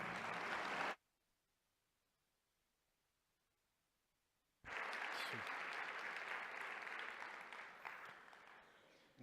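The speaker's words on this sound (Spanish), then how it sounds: "un aplauso para él" Audience applause for a speaker at a Topaki 2018 talk, loud sustained clapping in two bursts: a short burst at the start, a gap of near silence, then a long full round that slowly tapers off.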